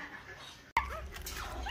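Several dogs yip, whimper and bark close by, mixed with other animal noise and movement, with a sudden bang partway through and people talking faintly.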